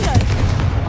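Confringo fire spell blast in the Hogwarts Legacy video game: a brief, booming low-end burst with a fiery rumble that rolls through the whole moment. A player's voice sits briefly on top of it.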